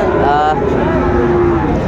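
A single loud, close moo from Friesian or crossbred cattle at a busy Raniganj livestock market, rising and holding for over a second against background crowd noise.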